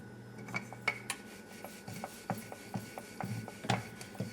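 Paratha dough made with red kidney beans, dusted in plain flour, is pressed and flattened by hand, giving soft irregular rubbing pats and light scuffs against a surface, fairly quiet with a low steady hum beneath.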